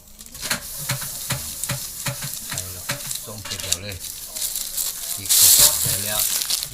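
Toasted rice and shallots being stir-fried in a pan, with a steady close sizzle, scraping and stirring sounds throughout and a brief louder hiss near the end. Faint talk can be heard under the cooking.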